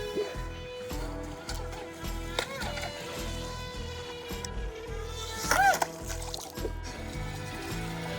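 A budget RC boat running at full throttle, its small electric motor whining steadily with water splashing and sloshing around the hull, a sharp louder burst near the end.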